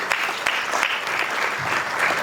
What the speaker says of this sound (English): can you join me to give Mr. Shasore another hand of applause?